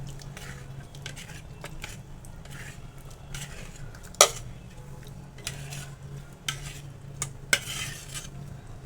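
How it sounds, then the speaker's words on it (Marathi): Cooked chandan batwa greens are pressed and mashed in a pot with a serving ladle, giving soft, steady scraping and stirring over a low hum, with a few sharp metallic clinks of ladle on pot. "आणि व्यवस्थित पळीनं मॅश करून घेणार आहे आपली जी भाजीची पळी असते ना भाजी वाढायची तेनंच मी ही चांगली घोटून घेणार आहे भाजी"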